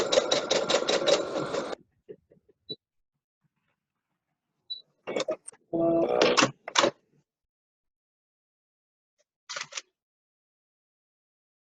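A sewing machine stitching satin fabric runs in a fast rhythmic burst, stops, then runs again in a shorter burst as it back stitches. Brief clicks and handling sounds fall between the runs, and quiet gaps separate them.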